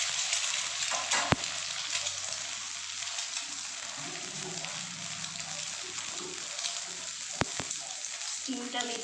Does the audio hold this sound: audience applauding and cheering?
no